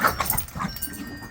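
A sexually aroused male dog yips and whimpers in short, high, strained cries, fairly close and alone, with uneven breaks between the sounds.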